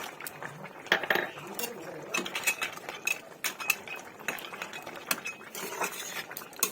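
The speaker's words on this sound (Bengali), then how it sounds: "এই সময়টা কিন্তু আমি বড়িটা দিয়ে দেবো।" Lentil dumplings (bori) going into a simmering pot of winter vegetable curry with beans and potatoes, with clinks and scrapes of a utensil against the pot, close and fairly busy, no speech.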